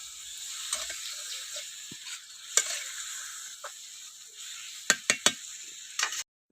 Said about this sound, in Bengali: এবার আমি গুড়টা দিয়ে দেবো এবার আমি আস্তে আস্তে ভালো করে জাল করে নেব